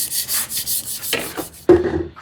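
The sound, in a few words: freehand sharpening the bevel of a vintage plane blade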